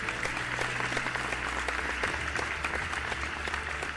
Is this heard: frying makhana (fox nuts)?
no